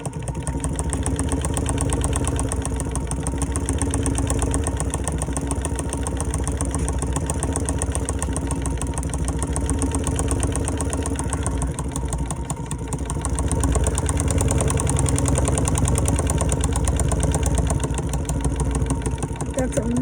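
A chainstitch embroidery machine runs a counterclockwise fill stitch with Troy Rayon 600D thread, a loud continuous mechanical whir and rapid rattle that holds steady throughout the clip.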